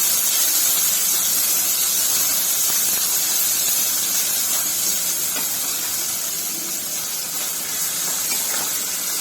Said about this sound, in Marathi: कांदा टाकून घेऊया एक मोठा।